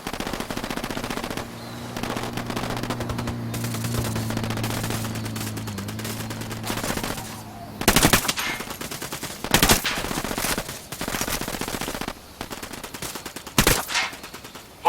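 Gunfire in the video game Ghost Recon Wildlands, sustained rapid automatic fire over a droning vehicle engine, followed by several separate loud shots and short bursts spaced apart.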